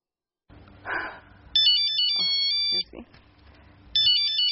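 An electronic phone ringtone plays in two bursts of repeating high beeping tones, after a short voice and some shuffling sounds.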